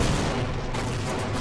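Enemy fire in the shooter game Half-Life: Hazardous-Course 2 forms a dense, continuous roar of gunfire and blasts. It is steady and loud with no clear breaks, and no voices can be heard over it.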